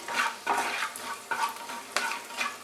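Whole spices like cardamom and cinnamon with dried red chili crackle in hot oil for a tempering, a soft continuous sizzle broken by four or five quick stirring surges, close and fairly quiet.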